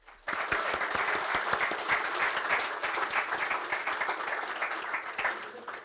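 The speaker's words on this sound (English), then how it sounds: "can we just give everybody another round of applause?" A room full of people applauds at the 2024 Northern Territory Chapter Architecture Awards presentation, the clapping starting abruptly and holding dense and steady for several seconds with no talk over it.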